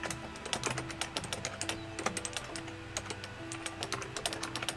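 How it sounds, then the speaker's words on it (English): Someone types rapidly on a computer keyboard, with close, crisp key clicks in an irregular, continuous patter over a faint steady hum, and no voices. "Uh-oh, she's typing."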